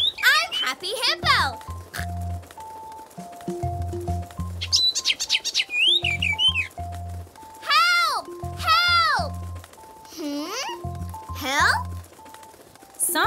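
Cartoon birds in a children's animated episode set in the clouds chirp in bright, rising whistles across the clip, interleaved with cheerful speech and a light musical backing.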